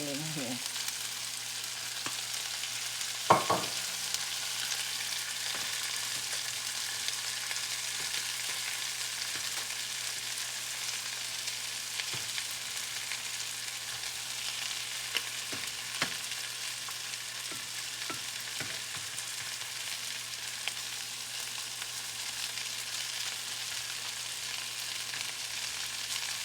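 Brussels sprouts sizzle steadily in oil in a pan on a stove turned halfway down, a continuous close frying hiss with a few brief clinks and stirs, no voices.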